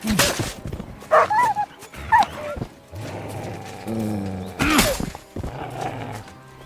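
A dog barks a few times in sharp bursts and lets out short whimpering whines, mixed with game-like effects and hoof-like clatter in the background.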